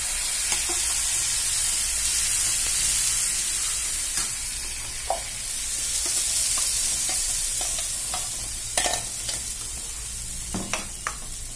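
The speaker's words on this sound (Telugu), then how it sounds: "స్టవ్ కట్టేసిన తర్వాత చట్నీ వేసి తాలింపు వేసుకోవాలి." Tempering for peanut chutney sizzles and spits in a hot pan with the stove switched off, a loud continuous fry that fades slightly, broken by a few sharp crackles and pops.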